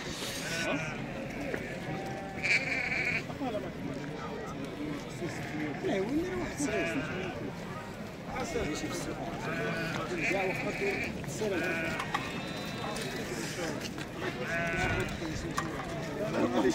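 Several sheep bleat repeatedly amid a busy crowd at a Moroccan livestock market, their wavering cries rising over constant background chatter and bustle.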